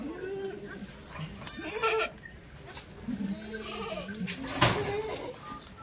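Kathiawadi goats bleat in a farm shed: several wavering, nasal cries from nearby come one after another, with a louder call near the end over faint background noise.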